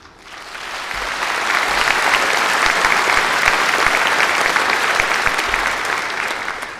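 A big crowd at Singapore's National Day Rally breaks into loud, sustained applause, swelling up quickly, holding dense and even for several seconds, then easing off slightly at the end.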